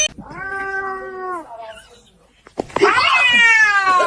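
A kitten meows loudly and close, one long drawn-out cry followed after a short pause by a second, higher, strained wail.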